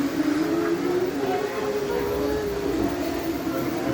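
A model train runs along its track at Miniatur Wunderland, giving a steady rolling hum with a faint whine that persists throughout, heard up close beneath a busy background.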